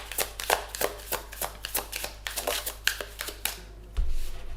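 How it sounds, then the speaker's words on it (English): Tarot cards are shuffled by hand in a quick run of crisp riffling flicks, each burst close and distinct, ending with a short card slap and settling rustle; no one speaks. "So I'm going to draw you the last advice card here."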